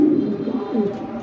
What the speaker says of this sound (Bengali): অনেক সুন্দর একটা কবুতর দেখেন, ফুল অ্যাক্টিভ, ডাকাডাকি করতেছে